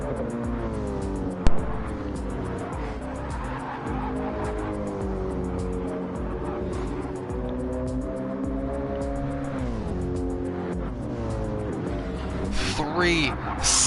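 GT3 race cars in Gran Turismo 7 climbing the hill into a right-hand corner at Watkins Glen, engines droning and shifting pitch steadily throughout while a commentator talks over them.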